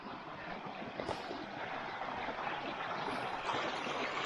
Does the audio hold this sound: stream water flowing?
yes